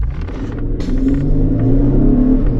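An Infiniti FX37s with adaptive suspension accelerating, a deep steady engine rumble heard from inside the car that swells slightly as it pulls away.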